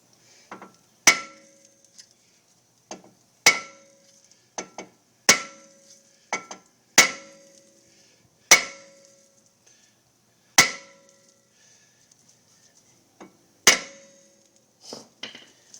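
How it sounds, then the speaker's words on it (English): A 3-to-4-pound sledgehammer taps on the rear brake rotor of a 2008 Chrysler Sebring, about a dozen sharp metallic strikes at irregular intervals, some followed by quick lighter rebounds, each ringing briefly. "we're going to take our 4-pound, 3-pound sledge, and we're going to tap it"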